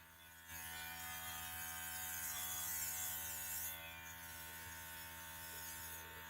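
An airbrush makeup machine runs with a steady electric hum and hiss, starting abruptly after a short pause and holding a constant faint drone with a slight drop in level later.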